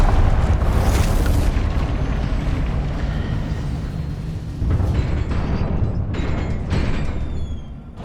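Confringo blasting spells in Hogwarts Legacy burst into loud, rumbling booms over a continuous low roar, with a fresh surge of blasts around the middle and more flaring toward the end.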